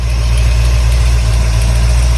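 A small block Chevy engine idles at about 1,000 rpm after the distributor install and a timing bump to 14, a loud, steady, low rumble with no break.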